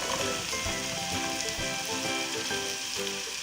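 Beans, carrot, capsicum and green peas sauté in a pan for masala rice, a continuous close sizzle with soft crackles and occasional light stirring knocks, steady throughout and without speech.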